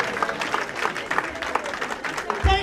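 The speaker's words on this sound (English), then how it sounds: "Can we all stand and give him a round of applause, please?" Mourners at a memorial service rise in a standing ovation, giving a sustained patter of clapping from a crowd with a voice talking over it.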